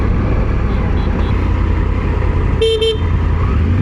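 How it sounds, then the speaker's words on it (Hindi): Horn of a three-cylinder inline motorcycle on a rainy test ride, a thin scooter-like beep. One short double toot sits near the end over steady road and engine rumble, with talking alongside. "हॉर्न तो बड़ा ही बेकार है यार स्कूटी जैसा हॉर्न है"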